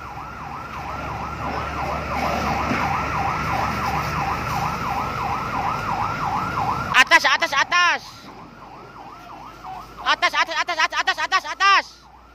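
An ambulance siren wails in a steady rising-and-falling cycle, then breaks into rapid yelping bursts, loud and close, with brief pauses between.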